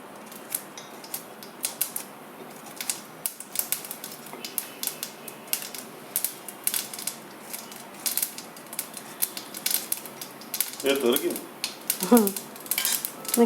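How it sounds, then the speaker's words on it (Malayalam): Mustard seeds spluttering in hot oil while a small raw plantain erissery is cooked, heard as dense, irregular crackling pops close by, growing busier and louder toward the end. "കടുക് പൊട്ടിത്തുടങ്ങി"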